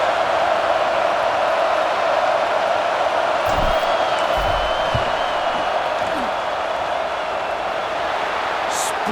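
Dense, roaring stadium crowd noise from a College Football 26 video game plays during a field goal attempt at Georgia. The dull, steady wash of the packed crowd continues unbroken with a few faint whistles or whoops.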